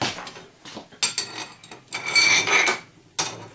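A cooking pot is handled in a home kitchen, giving several sharp metallic clanks and scrapes in quick irregular bursts, close and moderately loud with no talking.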